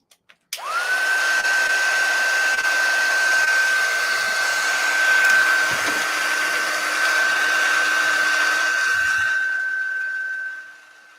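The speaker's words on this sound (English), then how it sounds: "I will now heat set with my heat tool," A handheld heat tool runs steadily for about ten seconds while heat-setting enamel dots on a handmade card, a loud close whirring fan with a high steady whine, starting after a couple of clicks and then powering down.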